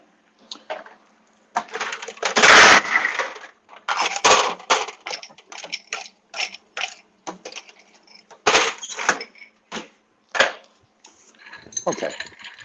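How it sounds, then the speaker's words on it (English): Glassware and ice being handled while chilling a cocktail glass at a bar, with irregular clinks, knocks and rattles in uneven bursts, some loud and close, amid talk. "Oh, need to chill a glass down there."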